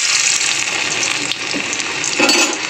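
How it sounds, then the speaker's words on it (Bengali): Chopped garlic sizzles steadily in hot oil while chilli chicken is being prepared, a loud, dense crackle filling the moment alone without any talk, swelling slightly near the end. "তো তেলটা এখানে তেতে গেছে। আমি এবারে এক এক করে যেগুলো সব জোগাড় করে নিয়েছি সেগুলো দেখিয়ে দিয়ে চিলি চিকেন করি"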